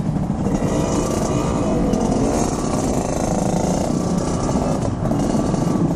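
Motorcycles with loud aftermarket exhausts ride at night with a dense, steady engine roar and rumble close by. The sound fills the whole stretch without pause and carries no voices.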